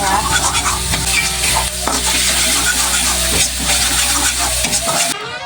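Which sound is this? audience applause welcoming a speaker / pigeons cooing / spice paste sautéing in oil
spice paste sautéing in oil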